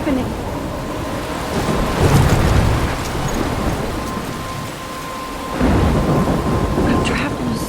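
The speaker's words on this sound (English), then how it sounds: "I'm trapped in a storm?" Thunderstorm in the Life Is Strange video game: steady heavy rain pours throughout, with deep rolling thunder swelling around two seconds and again near the end, plus faint wind, loud and close with no talking.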